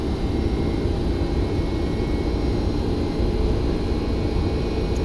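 Boeing 767-300 jet engines at takeoff power in the X-Plane 11 flight simulator, a loud, steady, broadband roar with a faint high whine, unbroken and constant throughout.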